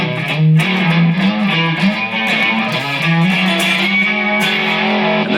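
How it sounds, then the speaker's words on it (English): An Enya guitar with its built-in chorus effect switched on plays a shimmering, wavering riff, close and fairly loud with no talking. "If I hit this button, it'll turn on some effects that are built into the actual guitar, right? I can make it a chorus"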